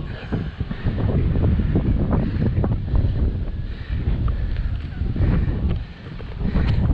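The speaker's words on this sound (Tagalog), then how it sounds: "Medyo mahangin. Kung alam ko na, sana dinala ko yung wireless microphone natin." Gusty wind buffets the microphone at the hilltop of Mother's Wonderland theme park in Tayabas, Quezon, with heavy low rumbling and flapping, steady and loud throughout.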